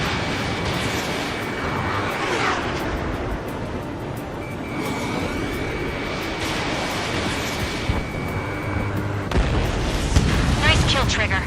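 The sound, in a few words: enemy aircraft exploding as it is shot down, Ace Combat 7 video game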